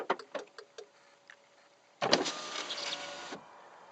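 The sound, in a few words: MK6 Golf R power windows lowering via key fob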